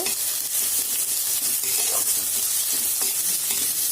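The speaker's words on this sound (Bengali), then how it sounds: "পেঁয়াজটা ভাজা হয়ে গেছে। এবার আমি আদা আর রসুনটাকে কোটা করে দিয়ে দিয়েছি। এটা একটু কিছুক্ষণ কষিয়ে নেব।" Chopped ginger and garlic sizzle with fried onions and chilli in a pan, a steady close frying hiss with soft stirring scrapes throughout.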